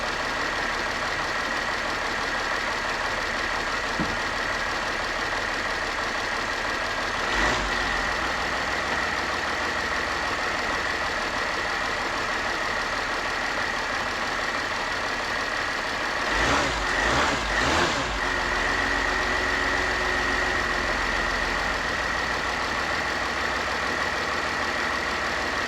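A 2008 Mercedes GL320 CDI diesel engine runs at a steady, moderately faint idle with a tonal whine, and a few brief revs lift out of it.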